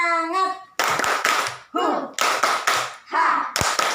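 Children clap rhythmically in bursts between short chanted phrases, the claps coming in quick sharp groups alongside their voices.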